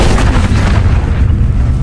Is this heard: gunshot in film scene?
yes